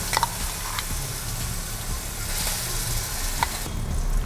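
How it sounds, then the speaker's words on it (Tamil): Ground ginger, garlic and green chili paste sizzles in hot oil in a pan, a continuous frying hiss with a few sharp pops and occasional scrapes of stirring. "இப்போ அதை நல்லா வதக்கிக்கலாம்."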